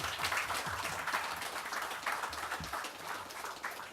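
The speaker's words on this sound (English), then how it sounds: "Let's give him a round of applause for that initiative." Audience applause at a lights installation event at the Talparo recreation ground, a dense round of clapping from a crowd, steady and fairly close, with a few low thumps of handling under it.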